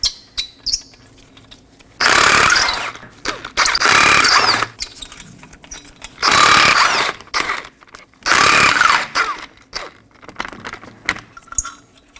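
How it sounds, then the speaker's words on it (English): Lug nuts coming off a 2014-2023 Ford Transit Connect front wheel, with several loud bursts of a power tool or ratchet spinning them free and metallic jangling between the bursts, close up. "We're going to locate 5 19mm lug nuts, holding the wheel down. Remove these as well."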